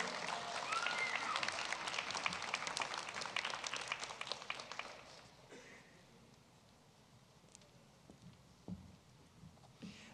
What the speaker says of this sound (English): A round of applause, un aplauso for El Monte High School.